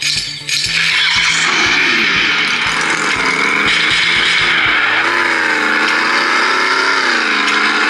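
A Ferrari drives in the mobile game Free Fire Max on a HONOR Magic Vs phone, its loud, continuous engine drone rising and falling in pitch as it accelerates, with no talking.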